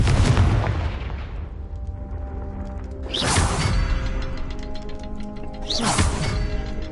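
Confringo fire spell blasts from the Hogwarts Legacy video game: three loud booming explosions about three seconds apart, each with a sharp crackling onset, over a steady background of game music.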